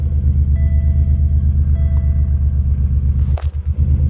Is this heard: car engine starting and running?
yes